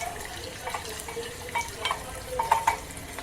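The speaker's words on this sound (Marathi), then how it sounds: "कांदा व्यवस्थित आपल्याला भाजून घ्यायचा आहे कंटिन्यू परतवत राहायचं" Onion frying in a pan while being stirred continuously until golden brown, a soft sizzle under intermittent scraping strokes of a spoon, close and fairly quiet.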